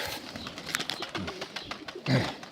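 Domestic sport pigeons at a home pigeon loft give a low, soft coo near the end, amid a busy, rustling background with faint bird sounds throughout.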